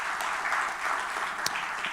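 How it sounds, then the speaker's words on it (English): Brief round of audience applause at a Ghanaian economic budget forum, a steady wash of clapping from many hands at moderate volume with a single sharper clap standing out. "Round of applause."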